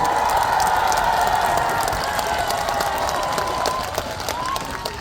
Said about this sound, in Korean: 큰 박수만 주시겠어요?